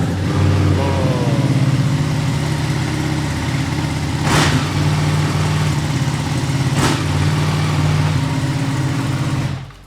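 A Ducati Corse Edition motorcycle engine fired up and held at a loud, close idle, broken by two sharp throttle blips a couple of seconds apart before it cuts off.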